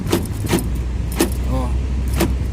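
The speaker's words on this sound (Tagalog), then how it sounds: "parang mahirap ng susian, tapos akala mo sira na yung susi ng sasakyan nyo" A car key jangles in the ignition in repeated short metallic rattles, close and loud, over a low steady vehicle hum.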